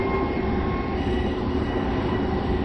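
A Metro-North M8 train in a train simulator game brakes with a steady, loud rumble and a faint high squeal, continuous throughout with no voices.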